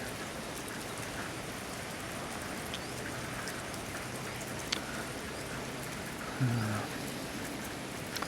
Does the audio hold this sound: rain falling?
yes